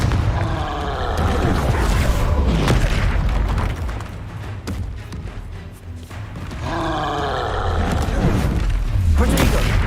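Confringo fire spells and other combat magic burst in Hogwarts Legacy, a run of deep booming explosions with grunts and roaring creatures, dense and loud throughout.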